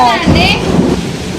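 A thunderstorm brings heavy rain and a deep rumble of thunder. The sound is loud and close, with a voice briefly audible over it.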